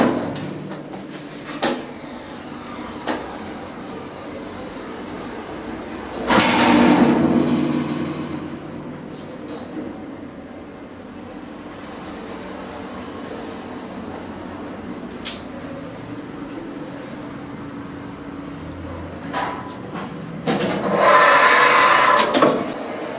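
Otis lift doors at an out-of-town shopping centre in France sliding open and later closed, two long rumbling slides several seconds each, fairly close, with small clunks and steady room noise between.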